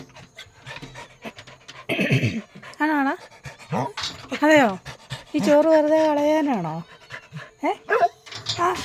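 A dog panting rapidly and letting out short whimpering barks close by, while a person talks to it over the sounds.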